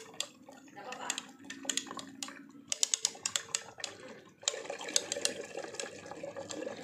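A spoon stirs urea into water in a container, mixed with waste copper scrap being processed for gold: irregular clinks and scrapes against the vessel over a steady wet swishing, with a voice talking intermittently.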